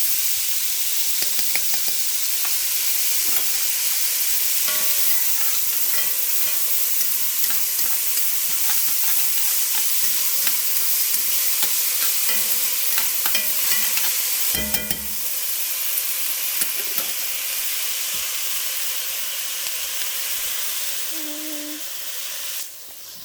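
Celery and garlic sizzle steadily in a hot pan for chicken cacciatore, a loud, continuous frying hiss with faint stirring clicks throughout.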